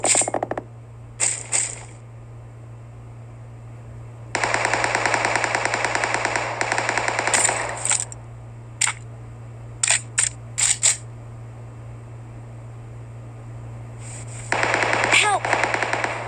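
A rapid-fire pistol with a 150-round load fires in PUBG Mobile, heard as several long, fast bursts and a few short, sharp volleys separated by quiet gaps.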